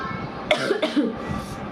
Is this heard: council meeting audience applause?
no